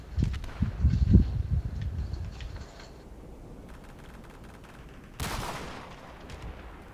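Video game gunfire: a burst of sharp shots crowds the first three seconds, then the scene falls quiet until another loud blast near the five-second mark that fades slowly.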